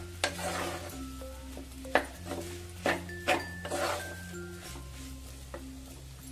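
Cooked potato pieces are turned in a pan, giving soft scraping strokes and a few clicks of a spoon against the pan over a faint sizzle and a steady tonal background.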